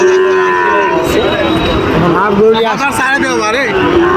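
Cattle at a weekly livestock market near closing time, loud nearby moos rising and falling in long sweeping calls over faint background crowd noise.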